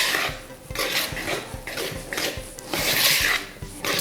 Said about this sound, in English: Now I'm gonna whisk this.